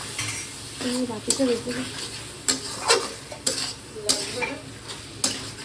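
Fried potatoes being stirred into a frying pan, with clinks and scrapes of a utensil against the metal over a soft sizzle, several sharp knocks spaced through the stir, and a short spoken phrase in between.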